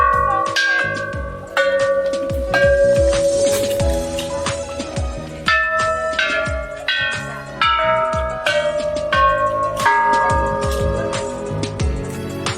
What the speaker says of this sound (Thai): ด้านนอกจะมีจุดให้เราตีระฆังแนะนำให้ทุกคนมาตีตรงนี้ด้วยนะคะ